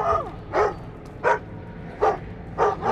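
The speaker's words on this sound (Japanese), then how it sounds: "吠えろ吠えろ、" Guard dog barking in the stealth video game Thief: four sharp, evenly spaced barks sound close and loud over a low rumbling game background.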